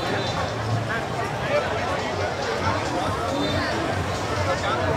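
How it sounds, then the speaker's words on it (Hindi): A dense crowd bustles at night on Beer Street in Hanoi, with steady babble and chatter of many voices all around. Nearby speech sits on top of the hubbub throughout. "गजब का माहौल है यार, यहाँ तो भीड़ है पूरा"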